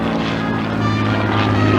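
A propeller warbird with elliptical wings flies overhead at the 2022 Spirit of St. Louis Airshow, its engine a loud, steady drone with a strong low hum.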